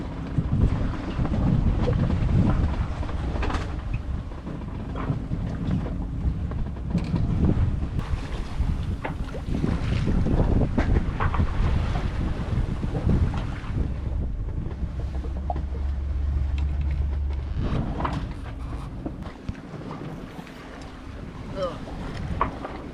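Sailboat motoring under engine power through rough, choppy seas on the way to Madeira Island, with a steady low engine drone beneath continuous wind buffeting the microphone and sloshing water, loud and unbroken throughout.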